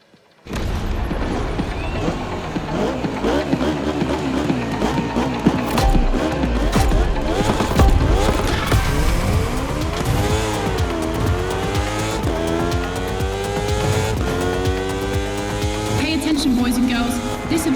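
Racing engines roar through a time-attack event in The Crew Motorfest, with revs climbing and falling in sweeping pitch glides and tires squealing. The engine noise is loud and steady, running under a talking voice throughout.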